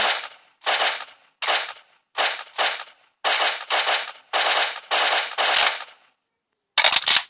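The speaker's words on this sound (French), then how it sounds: "Comment ça part trop vite les balles?" Rapid automatic gunfire in the video game Survival Z comes as about ten loud, sharp bursts of a second or less, close together, with a short gap before a final burst.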